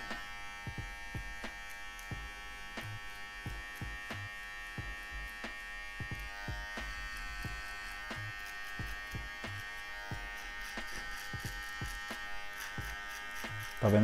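Electric finishing clipper cutting a fade on afro hair, buzzing steadily and close for the whole stretch, with a run of regular clicks and taps from the blade moving against the hair.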